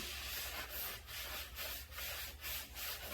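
Cleaner-soaked cloth wiped over a large polyethylene tank wall to strip residue, giving steady rhythmic rubbing strokes, about six passes in three seconds, close and fairly soft with no voices.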